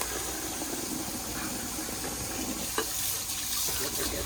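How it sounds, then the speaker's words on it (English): Running tap water splashes steadily as parrot food dishes are scrubbed and rinsed in a sink, a constant close hiss with small clinks. "Give it a good rinse."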